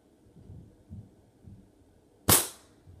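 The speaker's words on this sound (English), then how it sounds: "Take the first shot at the very right." A single sharp shot from a Crosman Stinger P311 airsoft sniper rifle, loud and close, after faint soft handling thumps, with a crisp snap that quickly decays.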